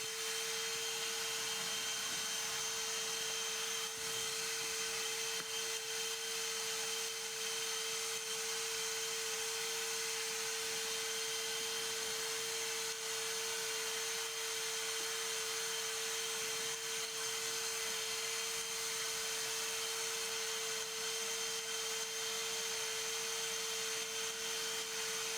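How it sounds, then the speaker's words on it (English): A shop vac runs continuously at a steady, loud whine with a constant hum, with no talking over it. "Actually, I'm going to turn that on the shop vac."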